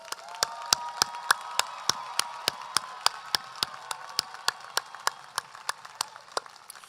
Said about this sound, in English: Let's give all of our students one more round of applause.